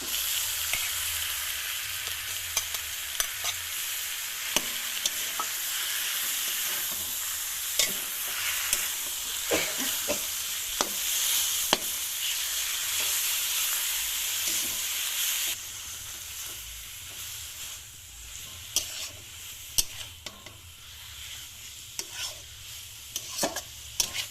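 Taro stems stirred into frying onion and spice masala in a pan, a steady close sizzle broken by repeated sharp scrapes and knocks of a spoon against the pan, running on with no talk.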